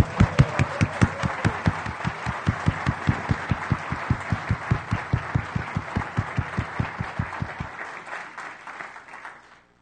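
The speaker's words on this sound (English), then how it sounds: "Now you can applaud." Keynote audience at DrupalCon Latin America 2015 breaks into steady, loud rhythmic clapping in unison, sustained for several seconds before tapering and stopping abruptly near the end.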